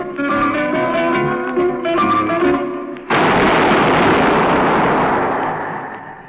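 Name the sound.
gunshot sound effect in a radio drama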